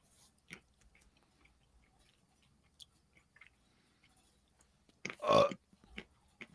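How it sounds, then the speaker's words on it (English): A single loud, throaty burp erupts abruptly out of near-silence, short and close, with faint room rustles before and after. "I had to burp."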